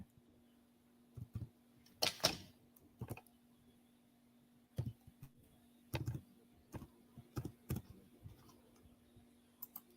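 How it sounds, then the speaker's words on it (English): Quiet clicks of keys on a computer keyboard as someone types an email, arriving in short irregular bursts with pauses between them, close but faint. "let me type my email here"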